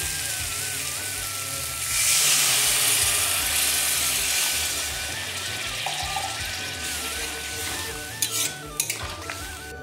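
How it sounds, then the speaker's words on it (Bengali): Water added to a pan of cooked spice masala for egg curry: a loud hissing rush as it hits the hot paste, followed by bubbling and stirring with some clanks of utensils near the end. "মশলাটা কষানো হয়ে গেছে, এবারে এর মধ্যে আমি জল দিয়ে দেব"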